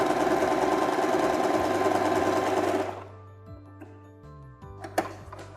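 A Bindallı Vera BV150 straight-stitch and zigzag sewing machine runs in a fast, steady whirring rattle for about three seconds, close and loud, then stops, leaving faint clicks and knocks.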